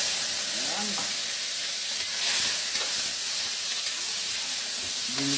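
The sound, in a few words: sautéing pork belly meat in a pan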